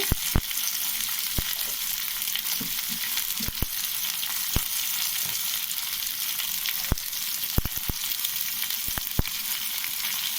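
Chopped onions with a pinch of turmeric sizzle steadily in a hot pan for tomato onion chutney, a constant bright crackle broken by occasional sharp spatters and pops, with no one speaking.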